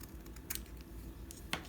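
Scissors snip through paper while trimming a tab for a handmade mini album, giving a few short, close crisp cuts spaced apart in a quiet room.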